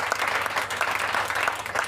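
A congregation at an evening church service applauds steadily, with a dense, continuous clatter of many hands clapping and no voices rising above it.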